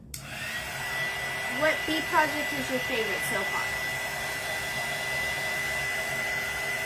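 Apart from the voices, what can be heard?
hair dryer blowing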